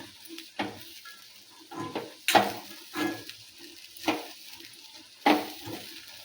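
A pan of vegetable stir-fry with fresh coriander leaves being stirred, close scraping strokes of a spoon against the pan recurring roughly every second over a soft sizzle.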